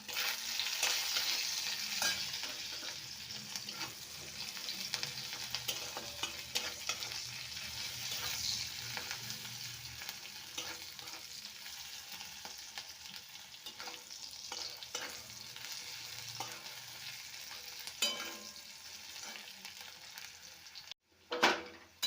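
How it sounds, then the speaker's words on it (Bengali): Chopped onions with a pinch of salt fry in white oil in a wok for a mixed vegetable dish, giving a steady close sizzle with frequent stirring scrapes and a sharp knock near the end. "পেঁয়াজটা আমার ভালোভাবে ভাজা হয়ে গেছে"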